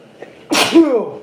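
A single loud, close sneeze with a sharp explosive burst, a brief breath before it, then quiet.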